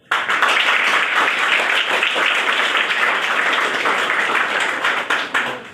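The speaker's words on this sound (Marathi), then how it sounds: "तुम्ही सर्वांनी टाळ्या वाजवून त्यांचं अभिनंदन करावं कौतुक करावं" Audience at a Nehru Yuva Kendra event in Shevgaon applauding teachers, a dense sustained burst of clapping from many hands, loud and steady, tapering near the end.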